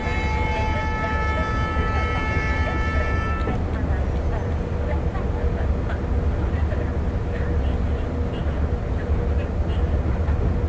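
Train running in the MSTS simulator game on a Ganga Kaveri Express approach to Nagpur Junction: a steady, continuous low rumble with a tonal whine and horn-like high tones fading after the first few seconds, under a background of other noise.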